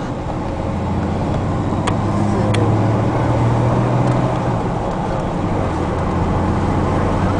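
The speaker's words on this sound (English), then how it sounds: "Here's a good running little Ranger four-wheel drive here." Ford Ranger four-wheel drive pickup with a manual transmission cruising at highway speed, a steady loud engine and road drone filling the cabin throughout, with a couple of faint ticks.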